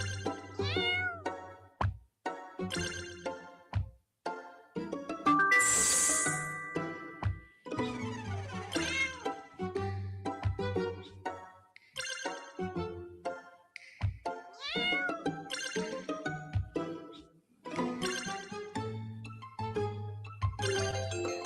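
Cartoonish cat meows from the digital Boop board game ring out repeatedly, many short bright mews in irregular bursts over about twenty seconds, mixed with chimes and soft clicks, no talking.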